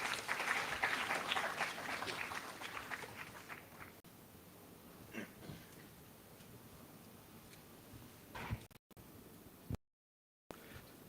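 Audience applause at a management institute orientation program, a moderate wave of many hands clapping that tapers off after about four seconds into quieter room noise with scattered footsteps and brief dropouts.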